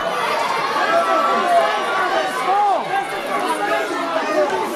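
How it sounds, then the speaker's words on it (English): Wrestling crowd at a pro wrestling show in Blackpool buzzing and murmuring in reaction to ladders brought into the ring, a loud indoor chatter of many voices with a few rising shouts. "The crowd reacting to the smaller ladders here in Blackpool."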